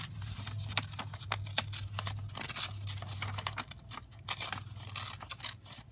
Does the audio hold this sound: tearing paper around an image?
yes